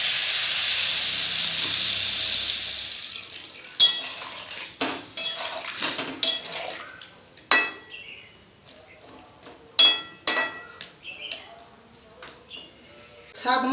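A watery mustard paste is poured into a hot pan of frying tomato and eggplant curry. A loud hiss rises at first and fades, followed by repeated clanks of a metal spoon stirring against the pan.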